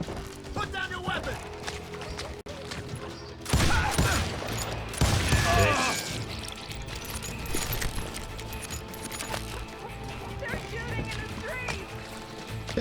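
Gunfire and battle noise in Call of Juarez: Gunslinger, with dense overlapping shots, clatter and music mixed under voices shouting throughout.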